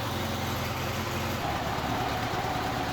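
An engine idles steadily at around 1,500 RPM while being adjusted down toward a smooth 1,000 RPM, giving a constant, close, even drone with no voices.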